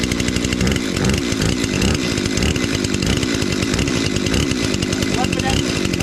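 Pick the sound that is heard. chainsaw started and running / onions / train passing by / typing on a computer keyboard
chainsaw started and running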